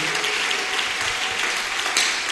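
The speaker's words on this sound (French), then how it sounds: "Beta maboko, sanzola nzambe na maboko." A church congregation claps in praise of God, a continuous, even wash of many hands in a large hall that holds steady for a couple of seconds, with one brief louder swell near the end.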